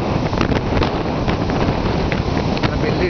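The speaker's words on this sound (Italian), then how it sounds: "il vento che sta portando via" Wind blowing hard over seaside cliffs and rocks on the Antignano coast, a steady, close, gusty roar buffeting the microphone throughout, with no clear voices.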